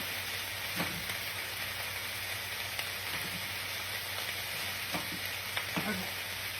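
Cabbage and sausage frying in a skillet give a steady low sizzle throughout, with a few soft stirring scrapes and clinks rising above it and no talking.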